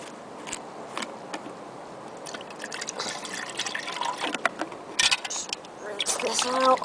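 Water is poured into a pot from an outdoor brew kit used for making tea, giving a soft, irregular trickle and splashing that grows louder toward the end, with someone talking over it.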